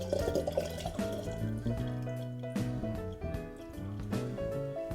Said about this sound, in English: we're going to take 750 ml of Grappa and dump it into our mix